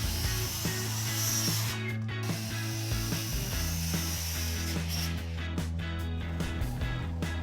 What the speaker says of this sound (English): All right, time to cut some joists.